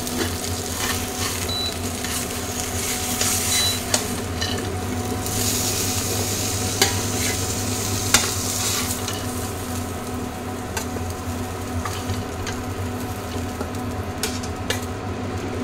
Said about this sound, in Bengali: আমি এবার মাছগুলোকে ভেজে নেব